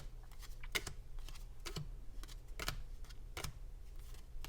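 Tarot cards being shuffled in short, crisp riffles, several quick snapping bursts spaced about a second apart, close by and otherwise quiet.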